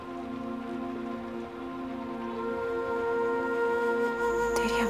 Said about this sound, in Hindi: इस बारिश से बहुत डर लग रहा है फाती।